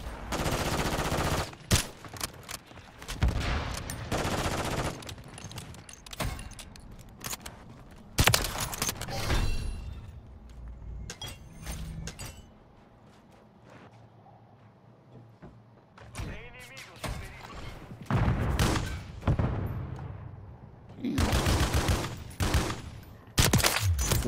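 Gunfire in Modern Warfare 3 comes as repeated bursts of sharp shots and rapid automatic fire, loud and close, separated by quieter gaps of ambient game sound.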